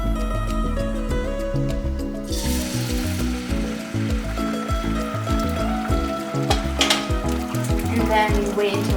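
Whisked eggs for egg fried rice sizzle loudly in a hot pan, a steady close frying hiss with light stirring and clinks over a low background hum.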